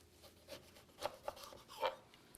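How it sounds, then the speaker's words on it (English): A knife cuts through a fresh lemon on a board: a few soft, close slicing and rubbing strokes, quiet and irregular, with no talking. "So just cut up a lemon here."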